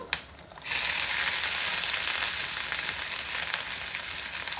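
Urad dal, dried red chillies, peppercorns and ginger pieces hit hot oil in a pan and burst into a loud, crackling sizzle that holds steady and close after a brief quieter start.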